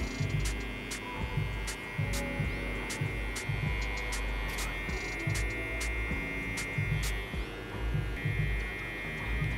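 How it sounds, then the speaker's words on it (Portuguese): Electric hair clipper buzzing steadily up close while its blade corner finishes a low fade haircut, a continuous motor hum with short repeated strokes and no talking. "Com o canto da máquina mesmo, com o canto da lâmina."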